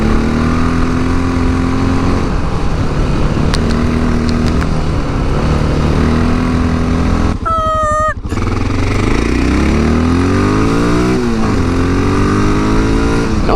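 Dual-sport motorcycle engine droning loud and steady while riding on a windy road, rising and falling with the throttle, with a brief horn-like tone in the middle.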